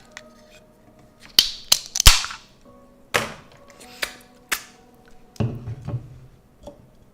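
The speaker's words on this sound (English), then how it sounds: "I gotta open up my fucking Monster Energy drink" A can of Monster Energy drink being opened without fingernails: a series of sharp, close taps and clicks scattered over several seconds, ending in a louder pop and hiss of the tab, with no talk.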